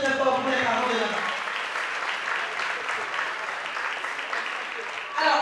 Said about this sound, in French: on peut applaudir très fort pour les parents de Naba.